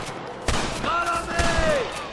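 Rapid gunfire rings out in a shootout against rustlers in Red Dead Redemption, with several sharp shots in quick succession over a fairly loud ambient bed and a whistling ricochet-like tone in between, while someone shouts.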